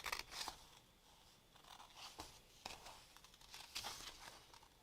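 Scissors rough-cutting craft material make a string of quiet, crisp snips and crunches, arriving in irregular bursts with soft paper rustling between them.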